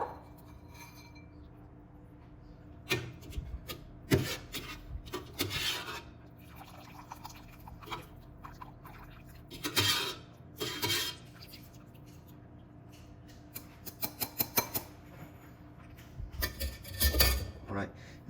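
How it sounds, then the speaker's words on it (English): Bones and mirepoix are sieved out of a pot of stock, giving faint scattered clinks, scrapes and metallic taps of a sieve and utensils against a pot at close range. "now I'm just gonna use a sieve and sieve out all the bones and the mirepoix out"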